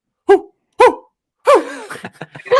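A human voice imitates a Sasquatch (Bigfoot) call with a few short, barking, howl-like whoops repeated close to the microphone, ending in a longer wavering cry.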